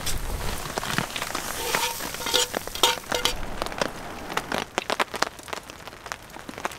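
Bacon fries in a pan at a snowy, rainy winter bushcraft campsite, giving dense sharp crackles and pops that crowd together, then thin out into sparser spits toward the end, with no talking.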